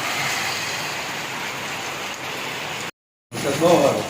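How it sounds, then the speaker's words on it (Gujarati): Steady, dense hiss of heavy rainfall in Amreli, filling the scene, briefly cutting out, then returning with a faint voice mixed in. "ફૂલ વરસાદ છે અત્યારે અમરેલીમાં"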